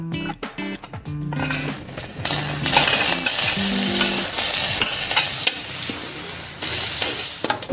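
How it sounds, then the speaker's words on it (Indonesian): Garlic and a blended spice paste sautéing in a pan for chicken soto, giving a steady loud sizzle with a scraping stir and a few light clinks of utensil against metal. "Sekarang kita tumis bawang putihnya dulu ya teman-teman. Kita masukin bumbu yang kita blend dari tadi."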